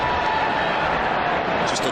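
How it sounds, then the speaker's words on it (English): A stadium crowd at a Copa America 2016 match between Argentina and Bolivia sends up a steady, dense roar as Messi touches the ball, a continuous wash of noise with no break. "Just a cheer for touching the ball"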